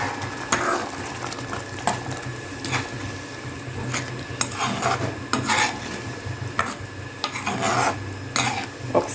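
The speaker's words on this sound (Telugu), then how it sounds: "పనస గింజలు యాడ్ చేసుకొని మొత్తం కలుపుకోవాలి." Jackfruit seeds are stirred into a thick cashew masala curry, producing repeated rasping scrapes of a spoon against the pot in an uneven rhythm over a low simmering sizzle, close up.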